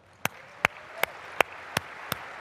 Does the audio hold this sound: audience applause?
yes